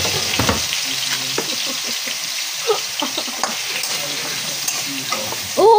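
Sliced hotdog frying in a pan for a carbonara, a loud, close, steady sizzle with crackles and a few scraping stirs, and a brief rush of running water at the end.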